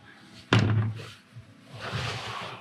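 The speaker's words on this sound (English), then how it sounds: "Let me open the doors." A door thuds open in a capsule hostel in Tashkent, Uzbekistan, a single loud close impact followed by a brief low rumble, then quieter room noise and faint movement.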